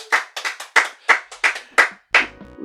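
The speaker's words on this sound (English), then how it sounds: "Round of applause." Clapping from a small group, a round of applause in sharp separate bursts, about eight claps in quick uneven rhythm, close and clear, ending with a final clap and a brief tonal sound.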